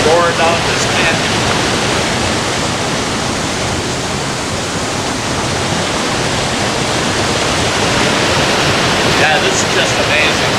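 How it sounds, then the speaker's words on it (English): Water roars down Foster Falls, a loud, unbroken rushing wash of whitewater close by that holds steady for the whole stretch. "That water was pouring, just roaring over that."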